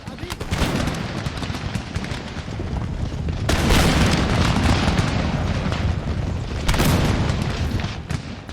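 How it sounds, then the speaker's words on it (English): Cannon fire in the Empire: Total War battle, a dense, continuous rumble of booming shots and volleys with louder bursts near the middle and end, with a voice talking over it. "Cannons just took out something."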